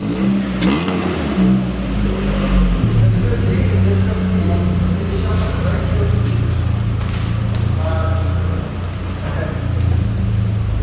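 A Ford ST car engine revving hard on a dyno during a power run, a loud, rising engine roar with shifting pitch sweeps close by, sustained throughout.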